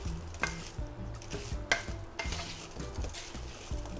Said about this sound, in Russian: Теперь все хорошо перемешиваем.